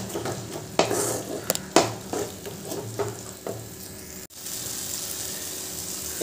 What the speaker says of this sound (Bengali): এবার যে আমি 4 মগজ আর কাজু বাদামের পেস্ট বানিয়েছিলাম ওইটা দিয়ে দিলাম। এবার এটা ভালো করে কষিয়ে নেব।